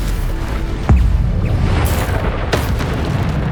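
Bombarda explosion spell cast in the Hogwarts Legacy video game: two heavy, close booms about a second and a half apart over a constant rumbling game ambience.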